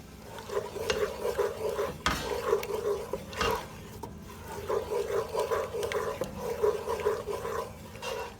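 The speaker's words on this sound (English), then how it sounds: "You want this onion paste to cook a while, at least for 5 minutes, while stirring it so it doesn't pop and go everywhere." Onion paste stirred in hot oil while cooking for chicken korma: a spoon scrapes and clinks against the pan in repeated strokes over a soft sizzle, close and moderately loud.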